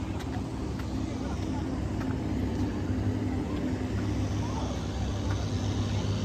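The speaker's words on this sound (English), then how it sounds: "I thought that was a helicopter. That's actually that boat making that sound." Steady low engine drone of a motorboat near Jupiter Inlet, continuous and moderately distant, with a constant helicopter-like rumbling hum throughout.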